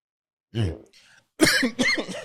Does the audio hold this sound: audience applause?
no